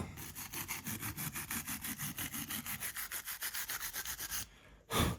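A Dremel 3000 rotary multi-tool, being repaired after water damage and a seized shaft, runs in a short burst with a rapid, rhythmically pulsing buzz, close and moderately loud, then cuts off with a brief thump.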